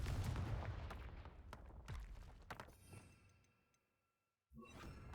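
The Confringo fire spell cast in Hogwarts Legacy: loud explosive bursts and whooshes that trail off into near silence before the game's sound abruptly returns.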